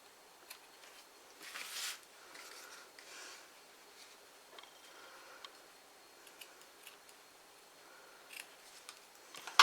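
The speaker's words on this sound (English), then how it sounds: "I need a pair of scissors that cuts better than this." Quiet, close snipping of scissors through card, a few crisp cuts with small clicks and rustles between them.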